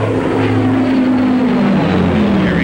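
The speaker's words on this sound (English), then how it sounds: "Or the Heinkel 111K." The propeller engines of a Heinkel 111K bomber drone steadily and loudly, with a deep pulsing hum that holds level throughout.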